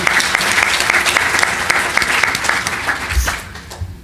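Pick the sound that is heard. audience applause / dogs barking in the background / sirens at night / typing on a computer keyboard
audience applause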